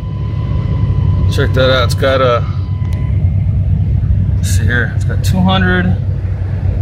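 A 1995 Chevy G20 cargo van idles with a steady, loud low rumble from start to finish while someone talks over it in short phrases.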